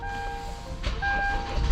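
A Kia Sorento R starting up: steady electronic dashboard chimes, then a broadband burst as the engine cranks and catches into a louder, continuous idle rumble close by.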